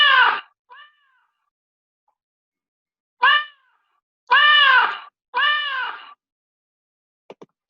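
A cartoon cat meows in a Scratch cat-chasing-mouse game. There are five clear, loud meows at irregular intervals with silence between them, ending in a couple of tiny clicks.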